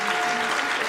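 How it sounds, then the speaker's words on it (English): An audience applauds after a concert of spring duets at a jazz venue, a dense, even wash of clapping filling the short moment without any talk. "Please give them another warm hand of applause."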